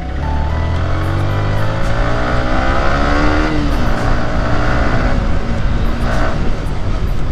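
A motorcycle ridden along a road drones loud and close, its engine note rising and falling through gear changes while other traffic rumbles around it.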